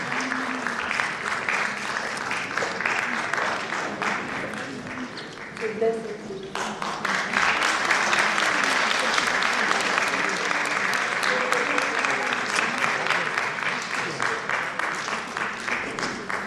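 A concert audience gives sustained, dense applause that swells and carries on steadily throughout, with a voice speaking over the clapping.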